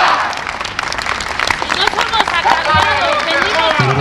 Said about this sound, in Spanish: que se escucha fuerte ese aplauso a la Jefe Delegacional Pablo Moctezuma en esta comparecencia